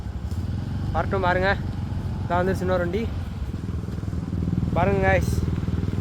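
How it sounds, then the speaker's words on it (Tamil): Motorcycles passing along a rural village road near a garden farm, engine drone steady and fairly loud throughout, while someone talks over it in short bursts. "இன்னொரு வண்டி வந்துட்டுருக்கு"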